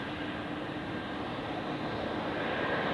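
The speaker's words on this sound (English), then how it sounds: "And here we have an Air Bulgaria Airbus A320." An Air Bulgaria Airbus A320 at Zurich Airport sends out a steady, broad jet roar that holds at an even level throughout, heard from a distance with no voices.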